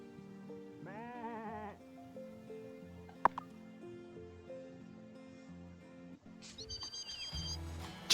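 Sheep bleating in the farming video game Wylde Flowers, a short wavering bleat near the start over looping background music, followed by other game sound effects.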